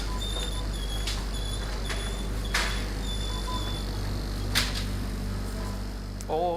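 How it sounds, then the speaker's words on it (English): Busy supermarket ambience: a steady mains-like hum underlies faint beeps, scattered clatter and distant murmur, with a few sharper knocks and a brief warbling tone near the end, continuous and moderately loud. "we extract meaning from sound in any scenario, whether it be a supermarket that sounds like this"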